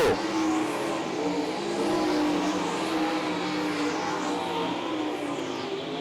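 Race cars circling the oval at Tri-City Motor Speedway during GLSS MichiganCAT heat racing, a dense, steady roar of several engines running close together without a break.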